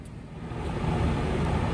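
A Sachman Italy bed milling machine's spindle runs at about 600 rpm, a low steady mechanical hum with faint rhythmic pulsing, constant and fairly quiet throughout.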